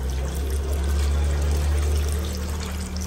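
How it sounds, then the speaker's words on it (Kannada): Water poured onto block jaggery in a cooking pan, a steady, fairly loud gushing pour that runs evenly for about three seconds with no voices. "ಇವಾಗ ಈ ಬೆಲ್ಲಕ್ಕೆ ನೀರು ಹಾಕ್ಬಿಟ್ಟು"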